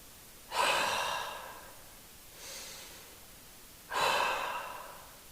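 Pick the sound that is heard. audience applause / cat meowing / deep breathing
deep breathing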